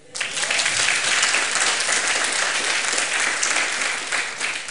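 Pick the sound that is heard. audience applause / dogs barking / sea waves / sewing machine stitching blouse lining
audience applause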